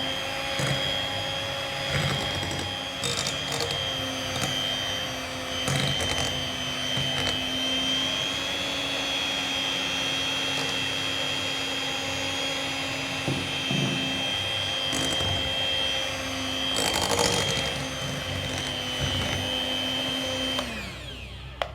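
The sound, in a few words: electric hand mixer mixing brownie batter at low speed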